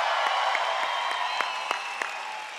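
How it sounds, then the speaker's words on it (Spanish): Audience at a comedy roast applauding and cheering, steady crowd clapping and whoops, with a few sharp individual claps standing out near the front. "Fuerte aplauso para la hora feliz"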